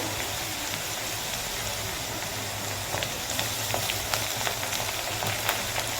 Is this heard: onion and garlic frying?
yes